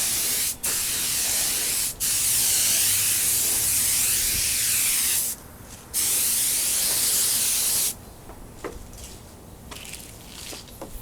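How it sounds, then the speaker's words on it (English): Loud, close aerosol spray hissing in long continuous bursts with brief pauses as paint is sprayed on a Honda NS250R motorcycle fairing, followed by quieter rattling and handling noises. "I wanted to spray the bottom of this too"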